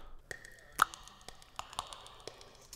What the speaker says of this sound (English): he'd put a wood block through tape delay